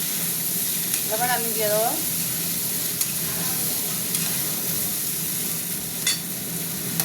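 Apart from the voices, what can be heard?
food frying in pan, sticking to bottom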